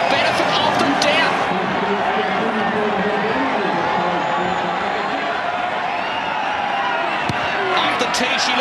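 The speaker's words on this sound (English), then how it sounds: "Crowd reaction tells the story." A large stadium crowd at a 2006 Tri Nations rugby union match roars steadily after a try is scored, a loud, sustained wash of noise with a commentator's voice over it.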